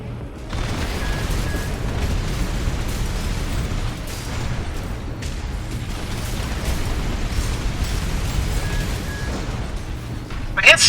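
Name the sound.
mech firing all weapons in Armored Core 6 video game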